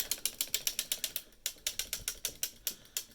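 A 72-cylinder sock knitting machine works a men's size 10 Regia Pairfect sock, clicking in a quick, steady rhythm of close mechanical ticks with a brief hitch midway and no talk.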